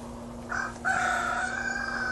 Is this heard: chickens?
yes